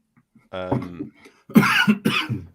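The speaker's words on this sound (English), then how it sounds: "I'm not laughing. I'm coughing." A voice speaks briefly, then a couple of harsh, close coughs burst out loudly in quick succession.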